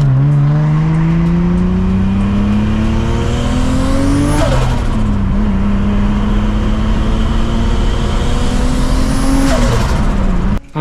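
A loud turbocharged BMW M50 engine in an E36 revs up through the gears, pitch climbing in long sweeps, dropping briefly at each shift, then climbing again, close and continuous.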